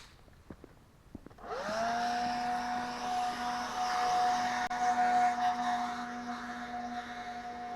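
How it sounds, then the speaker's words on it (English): After a few light knocks, a leaf blower starts up and holds a steady, loud whining roar as it blows loose dirt and leaves off a surface, running continuously with slight shifts in pitch. "First thing I want to do is blow off some of the loose dirt and leaves."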